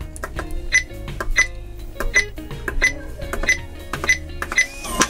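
Rexmeo biometric gun safe keypad giving short electronic beeps as cues, a series of about eight crisp tonal chirps in an irregular rhythm, close and fairly loud, alone with no talk.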